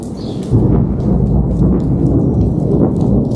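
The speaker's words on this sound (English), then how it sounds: "there's a little thunder if you can hear it" Low rumbling thunder rolls beneath steady rain, a continuous heavy wash of sound.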